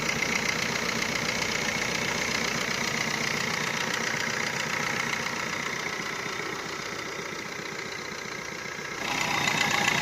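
A used 2017 Maruti Swift VDI diesel car engine idles close by with a steady, clattering diesel knock, dipping slightly in level before a small rise near the end, with no speech.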